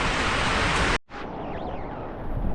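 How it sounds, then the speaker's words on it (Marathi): Heavy monsoon rain pours down in a Konkan village, a dense, steady roar that briefly cuts out near the start before resuming just as loud. "पाऊस बघा मित्रांनो किती वाढला आहे"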